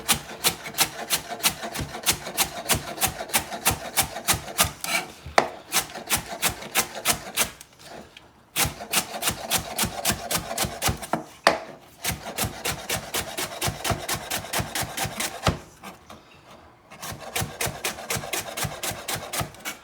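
A knife cuts leeks on a wooden board for potato leek soup in long runs of quick, even strokes, each a crisp close tap, broken by a few short pauses.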